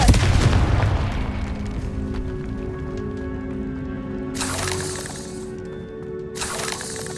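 A Confringo explosive spell goes off in Hogwarts Legacy with a heavy boom and crackling burst at the start, trailing into a rumbling tail under game ambience, with further sharp bursts later in the clip.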